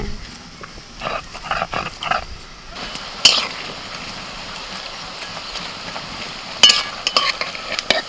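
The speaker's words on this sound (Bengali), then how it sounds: "পকোড়া ভাজা হয়ে গেছে, তুলে নিচ্ছি।" Pakoras deep-frying in hot oil in a home kitchen give a steady crackling sizzle, broken by short clattering bursts of stirring and lifting the fritters out.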